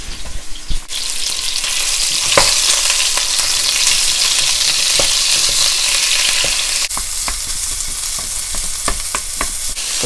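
Ground beef fries loudly in very hot oil for a beef noodle stir fry, a dense steady sizzle with a few sharp spatula scrapes and clicks as the meat is broken apart, no voices.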